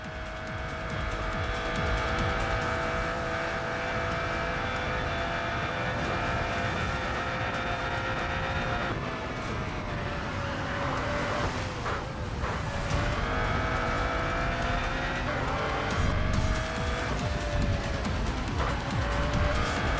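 Race car drifting through a corner of the Nurburgring in the Racing Master video game, giving a loud, sustained, high engine whine with tire squeal and skidding layered on top across the whole stretch.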